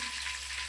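Fish pieces frying in hot oil, a dense steady sizzle close up with no talk.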